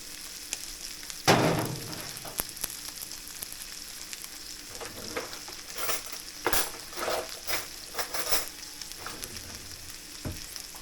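Stuffed pork chops fry in a pan with a continuous crackling sizzle. Sharp metallic clinks and scrapes of utensils and cookware sound over it, close by.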